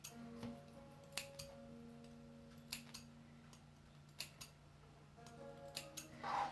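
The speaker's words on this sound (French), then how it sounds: "j'ai coupé les angles, j'ai cranté" Scissors snip at fabric corners and notch the curves of a homemade apron, giving a few quiet, separate crisp cuts spaced out over a soft background hum.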